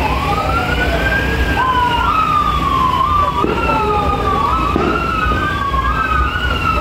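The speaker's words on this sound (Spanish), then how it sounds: "ya se escuchan las sirenas" Emergency vehicle sirens wail loudly at the close of a patron saint festival float parade in Sonsonate, rising and falling sweeps overlapping one another above a dense street crowd and engine rumble.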